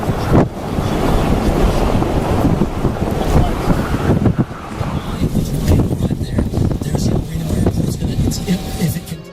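Violent tornado winds near El Reno, Oklahoma, in May 2013 roar steadily and loudly, buffeting the microphone with gusty rumbling across the whole stretch, with faint voices mixed in.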